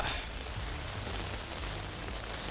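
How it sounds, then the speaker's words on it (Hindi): Heavy rain pours steadily in Colombo, a dense, loud, continuous hiss with low rumble underneath and no talking. "फिर से तेज बारिश आ रही है"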